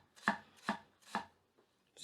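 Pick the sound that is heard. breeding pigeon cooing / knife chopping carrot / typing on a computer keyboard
knife chopping carrot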